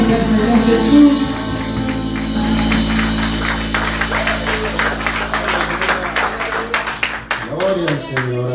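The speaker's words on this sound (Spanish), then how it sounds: "Den el aplauso fuerte al Señor Jesús." Church congregation applauding loudly after a call to praise, a steady wash of clapping across the whole stretch with organ or keyboard chords and a voice speaking over it.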